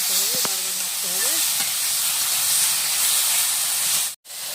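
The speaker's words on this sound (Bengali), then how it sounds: "শাকটা দিয়ে দিচ্ছি, দিয়ে আপনার নাড়াচাড়া করে নিতে হবে, বারবার নাড়তে হবে।" Pea greens (mator shak) stirred in a hot pan give a steady, loud sizzling hiss that carries through nearly the whole clip and breaks off sharply near the end. A few soft tonal sounds come in early.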